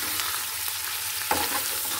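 Chicken meat frying and being stirred in a little oil over lowered heat, a steady broadband sizzle with a sharper scrape or clatter from the pan around the middle, no voices.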